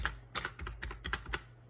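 Rapid keystrokes tapped on a computer keyboard's numeric keypad during secretary data-entry practice, a close, soft run of about a dozen clicks in an irregular rhythm, with no talking.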